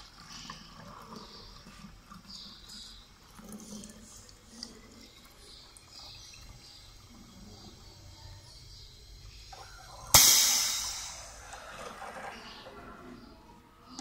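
A liquid piston filler set to one liter is triggered by its foot switch to dispense into a bottle. After a long quiet stretch, a sudden sharp hiss bursts out and fades into a softer rushing flow.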